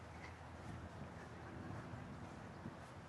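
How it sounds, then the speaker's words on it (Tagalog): Strong gusty wind in a park roars and buffets the microphone in a continuous rush with no voices, the kind of gale that sways big trees. "Lakas ng hangin ngayon, grabe."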